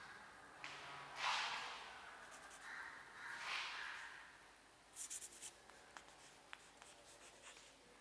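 Pen strokes scratch faintly on paper while lines are drawn onto a globe diagram, several soft rubbing bursts of varying length followed by a few quick taps, quiet and close with no talking.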